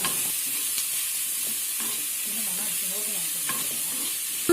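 Onions sauté in a pan for a snack filling, giving a steady close sizzle with occasional scraping stirs throughout, and no one talking.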